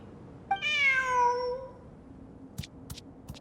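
A single drawn-out cat meow from a video game, Genshin Impact, with a rising then falling pitch, followed by a few faint clicks in a quiet background.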